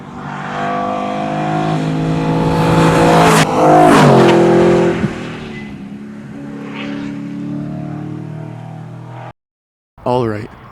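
A BMW S65 V8 with an 8,400 rpm redline revs loudly and sharply, its note climbing and then falling away with a hint of tire squeal. A brief silence follows before a final short rev.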